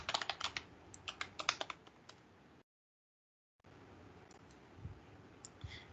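Someone types an email address and password on a computer keyboard in a quiet room: bursts of close, crisp key clicks, then a second of dead silence, followed by a few sparser keystrokes.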